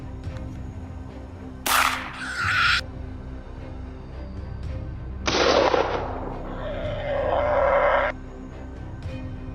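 Gunfire during a wild boar hunt in mountain terrain: two loud, separate blasts a few seconds apart, each ringing out briefly over a quiet outdoor background.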